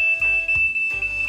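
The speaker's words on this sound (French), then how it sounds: "c'est le genre d'alarme qui va sonner" An Inkbird BBQ Go cooking thermometer phone app sounds its alarm, a steady high-pitched electronic tone with pulsing beeps, clear and close.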